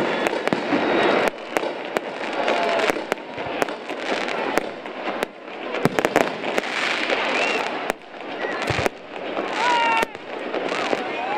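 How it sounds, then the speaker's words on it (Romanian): New Year's Eve fireworks display over a town street celebration, continuous dense crackling and popping bursts with sharp repeated bangs, crowd noise underneath throughout. "La miezul nopții, toți cei prezenți la spectacol au urmărit focul de artificii"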